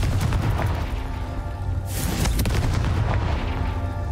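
A Confringo spell in Hogwarts Legacy goes off with heavy booming blasts over a dense rumbling din, and two sharp bursts stand out midway through.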